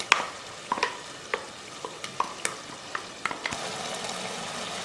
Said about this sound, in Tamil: அந்த மசாலா அரைச்சாச்சு, அதை இதில் சேர்த்துடலாம்.